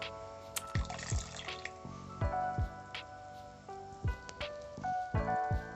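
Liquid is poured slowly into curdling soy milk for homemade tofu, giving a run of close, quiet drips and small splashes at an uneven pace.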